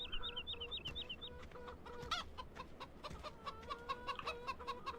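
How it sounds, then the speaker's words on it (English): Chickens cluck close by in quick, repeated bursts, with a few sharper squawks mixed into a busy farmyard chorus. "Out of the way, chickens."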